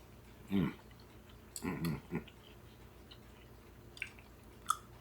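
Five-year-old freeze-dried ground beef being chewed close to the mic, a few soft crunchy bites and squishy chews in short bursts against a quiet background.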